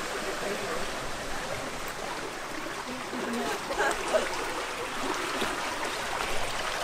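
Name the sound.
water flowing along top of aqueduct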